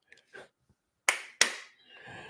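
Two sharp, isolated hand claps ring out close by in a quiet room, spaced about a third of a second apart, followed by faint low rustling.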